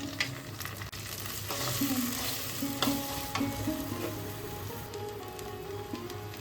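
A paste of cumin, coriander and green chili hits hot oil in the tempering and sizzles loudly and continuously, with stirring scrapes and a few clinks of the spoon against the pan.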